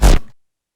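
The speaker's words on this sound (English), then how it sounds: "this one is a VEC 4 bass" A single VEC 4 bass sample for a happy hardcore remix: one deep, punchy low hit with a brief bright attack that decays within about half a second, heard alone.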